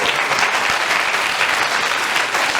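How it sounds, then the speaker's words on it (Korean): A lecture audience at a youth mind-training talk claps together in a steady, loud burst of applause that fills the room evenly from start to finish, with no talk over it. "박수 한번 치고"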